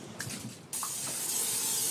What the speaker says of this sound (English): Spray the pot. And just with some cooking spray, get it all around, spray it down.